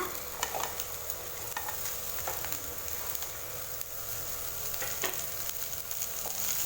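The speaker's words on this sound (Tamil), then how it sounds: "chow chow காய் சேர்த்துட்டு பார்த்திங்கன்னா நல்லா மிக்ஸ் பண்ணி வதக்கி விட்டுட்டேன்" Chopped chayote (chow chow) sautéing in a pan for poriyal, a soft continuous sizzle broken by scattered scrapes and taps of a stirring spoon, close and fairly quiet.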